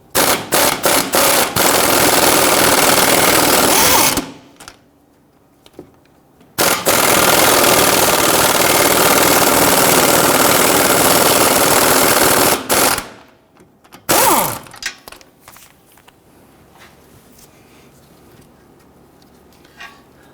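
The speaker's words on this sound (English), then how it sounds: "let's go ahead and loosen that nut" A pneumatic impact tool on a swivel with an extension loosens a front lower control arm nut on a 2011-2023 Dodge Charger. Loud, close bursts of rapid hammering rattle start and stop, with several seconds of quiet between them.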